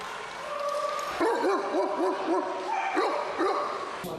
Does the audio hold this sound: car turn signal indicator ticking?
no